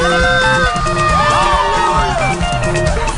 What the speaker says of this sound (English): Somebody scream!